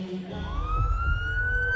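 Ambulance siren in a hospital advertisement, a single rising wail sweeping upward and holding high, clear and fairly close over a low rumble.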